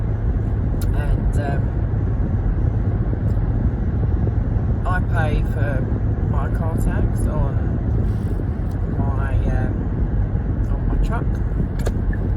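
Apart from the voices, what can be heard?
car engine while driving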